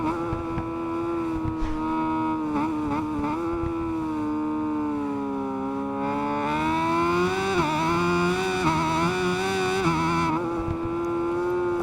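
A naked motorcycle's engine drones steadily and loudly through a ride, its harmonic note rising and falling as the throttle opens and eases, with no talk over it.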